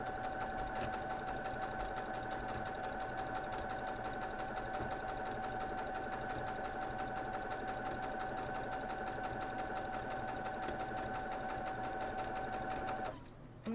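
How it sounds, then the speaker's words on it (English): A sewing machine stitches quilt block pieces in a steady, fast mechanical whir that runs unbroken for about thirteen seconds before stopping abruptly, close and alone with no talk. "let's head over to the sewing machine and sew these pieces"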